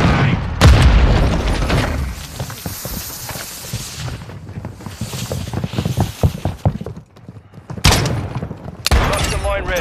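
Grenade blasts in Modern Warfare 2 land as loud, sharp booms, one early and another near the end, with scattered thuds and crackling debris between them and radio-style voices talking underneath.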